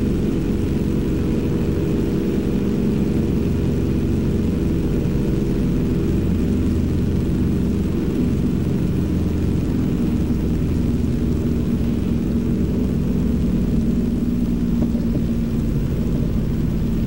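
A propeller airplane on its takeoff roll during flight tests near Juneau, Alaska, heard from inside the cockpit: a loud, continuous low engine and propeller drone that stays steady throughout.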